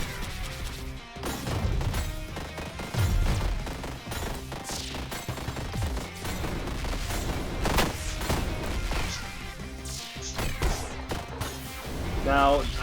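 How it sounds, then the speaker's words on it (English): Big cannons firing in One Step From Eden, loud crashing booms and bursts repeating through dense battle effects. "now you can see the big cannons that become active at zones 1 and 3"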